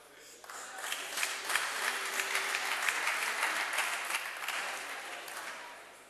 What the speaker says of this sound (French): ben c'est bien, vous m'avez déjà applaudi.